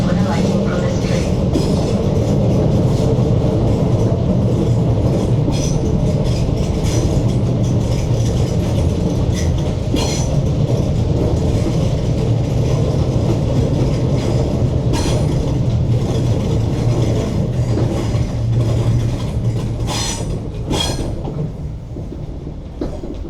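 A train rolls toward Paisley Canal with a loud, continuous rumble and rhythmic clatter over the rails, slowing slightly near the end with a few brakes or mechanism clicks.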